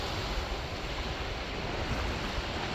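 Surf washing steadily onto the beach near Amber Cove in the Dominican Republic, a continuous broadband wash of breaking waves with some wind noise on the microphone and no talking.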